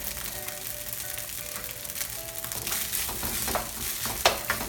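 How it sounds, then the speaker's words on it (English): Fried rice is stirred constantly in a hot pan, a dense continuous sizzle broken by scraping strokes of the utensil that grow sharper toward the end, with no talking. "So fried rice is quite a stir work. You have to stir it all the time"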